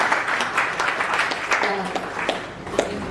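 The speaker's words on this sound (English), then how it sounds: "Let's give a big round of applause." An audience at an evening event with delegates applauds in a broad, steady wash of clapping, with some talk and cheering voices mixed in throughout.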